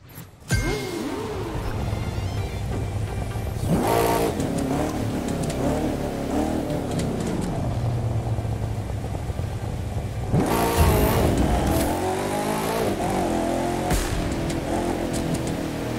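A car engine revs and roars in The Crew 2 racing game, loud and continuous over about sixteen seconds, with sharp acceleration surges near the four- and eleven-second marks and no talk.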